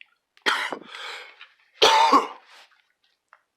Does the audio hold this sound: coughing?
yes